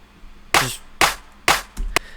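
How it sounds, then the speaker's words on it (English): A dry drum-machine clap sample, panned to the left in a dance remix, strikes four times at roughly half-second intervals, each a sharp, short crack, with the last two landing closer together. "A clap that I panned to the left."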